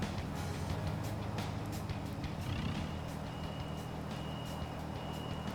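A car in the video game Persona 5: The Phantom X rumbles along with a low, steady engine drone and scattered clicks and game effects, fairly quiet, with no one talking.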